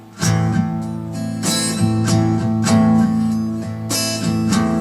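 Continuous guitar strumming, a repeating pattern of bright strokes over ringing chords, played close and evenly for several seconds.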